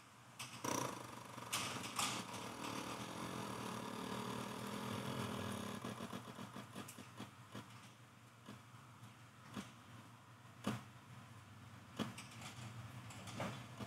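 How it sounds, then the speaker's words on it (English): A Suzuki Intruder 1400 fuel pump relay clicks on under the seat as the pump hums and fills the carburetor bowl. The sound is a faint, steady whir with light ticks and a few sharper clicks, with no voices. "you're hearing the pump fill the carburetor bowl"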